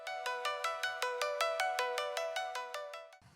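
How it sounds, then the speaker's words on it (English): A loopy arpeggiator synth from an anime theme song plays a steady run of bright, pitched notes, about four per second, evenly spaced and fairly loud, ending abruptly after a few seconds. "So sitting on top of all that music is a little kind of loopy arpeggiator sounding synth, which is this."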